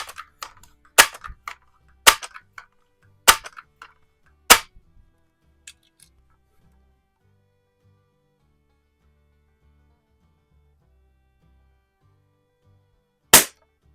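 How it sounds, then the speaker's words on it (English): Sharp, loud cracks from a Barra 1866 .177 multi-pump air rifle fired inside a garage, four shots spaced about a second apart followed by a long pause and one final shot, each with a brief metallic clatter. "So that was what, 3 or 4 shots into the same hole. Let's do one more there."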